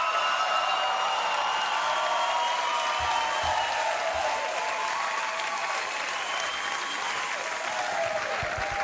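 Steady, dense studio audience applause at a televised Swiss Eurovision Song Contest 2018 selection show, a continuous wash of many hands that holds evenly throughout, with faint crowd murmur beneath.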